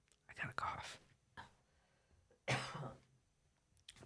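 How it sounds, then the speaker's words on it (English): A person coughs in short bursts in a quiet room, a few rough breathy coughs spaced apart with near silence between them. "I got a cough."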